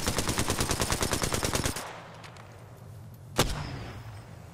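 Apex Legends gunfire: a rapid, steady automatic burst of closely spaced shots for almost two seconds, then quieter ambient noise with a single sharp report shortly after, no talking.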